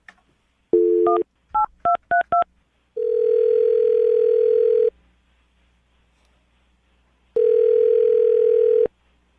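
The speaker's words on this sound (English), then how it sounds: "I'm going to dial her phone number right now." A phone line plays a burst of tone, a quick series of keypad beeps, then two long steady tones separated by silence, like ringback.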